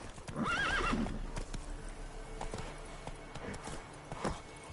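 Roach the horse in The Witcher 3 whinnies loudly and gallops with quick clip-clop hoofbeats and rustling movement, close and clear.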